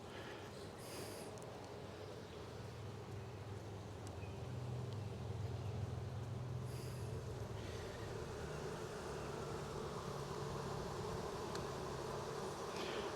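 A dense, steady drone of honeybees buzzing in an open hive, low and continuous, swelling slightly partway through, with no voices.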